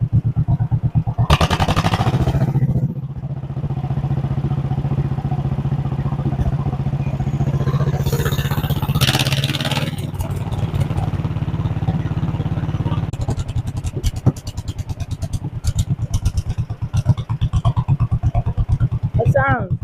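Single-cylinder John Deere 420W garden tractor engine, abandoned for over 35 years, running steadily after starting with a close, throbbing idle and some revving, while people talk over it.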